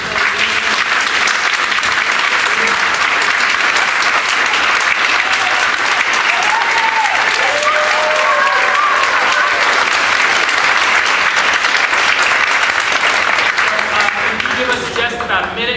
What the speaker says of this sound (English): So one more round of applause for our soloists.